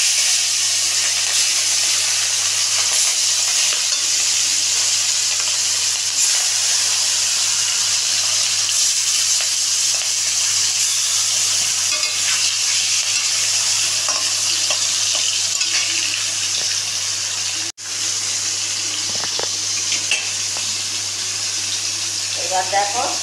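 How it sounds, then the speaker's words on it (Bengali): Hilsa fish pieces frying lightly in hot oil, a steady, loud, hissing sizzle that runs the whole time with faint scrapes, briefly dipping once before carrying on. "এবার দেখো মাছটা ভাজা হচ্ছে"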